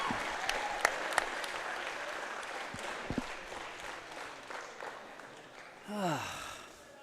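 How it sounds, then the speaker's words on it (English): A crowd applauds after a men's world doubles final, steady mid-distance clapping with a few sharper close claps, then a brief whistle-like sweep near the end. "The crowd shows their appreciation."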